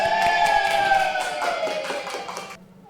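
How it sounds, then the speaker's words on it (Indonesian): Applause from a school classroom at the close of a sociology lesson: a burst of many hands clapping together, fairly close and steady, fading and stopping sharply after about two and a half seconds. "Tepuk tangan untuk kita semua."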